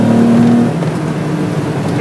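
A Nissan Datsun L30 engine on triple Mikuni carburettors revs, its loud, close drone holding a lumpy, cammy hum that shifts pitch partway through.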